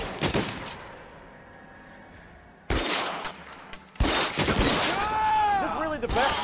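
Gunshots ring out in the 1940s Los Angeles police game L.A. Noire: a loud report with a long echoing tail, then two more sharp blasts later, the last followed by ringing metallic debris and clatter.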